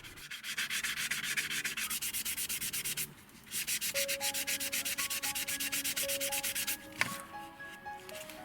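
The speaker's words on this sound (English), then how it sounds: "before being sanded with first 800 and then 1000 grade sanding sticks." Rapid rhythmic rasping of fine 800 and 1000 grit sanding sticks worked back and forth over a seam on a 1/48 Hasegawa Ju-87 Stuka plastic model wing, close and steady with a brief pause midway.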